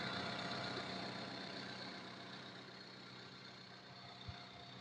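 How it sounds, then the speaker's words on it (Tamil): A Ford Figo Titanium petrol engine runs at a steady, smooth idle, a continuous even drone with one small knock near the end and no speech. "என்ஜின் ரன்னிங் பாருங்க மக்களே, ரொம்ப ஒரு ஸ்மூத்தான கண்டிஷன்ல தான் இருக்கு."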